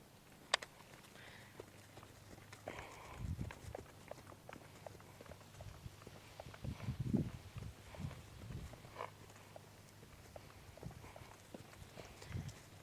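A horse circles at a walk, its hoofbeats landing in a fairly steady rhythm and thudding softly at moderate distance, with a few louder steps standing out over a low background hum.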